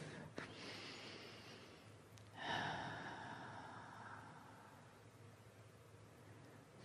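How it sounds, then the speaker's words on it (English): A person takes a deep breath during a guided meditation, a soft, drawn-out airy inhale and exhale that is close and gentle against a quiet hiss. "Take another breath."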